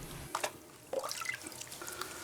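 A gold pan worked under water, giving soft sloshing and dripping splashes in a few quiet, close bursts of slight agitation.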